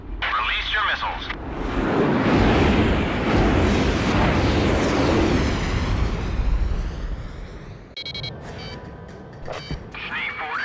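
Missiles released and exploding in the jet combat game Ace Combat: The Belkan War, a sustained loud roaring blast rumble lasting several seconds, then a brief cut and more crackling bursts, with radio voices over it.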